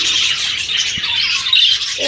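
Budgerigar chicks squawk and chirp inside a nest box, a steady high-pitched chatter of several young birds heard close up and fairly loud, with no talking.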